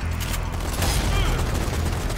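Rapid gunfire from a Zombie Army 4 game enemy striking trucks, a dense loud burst of overlapping shots and metallic impacts that runs continuously through the short stretch.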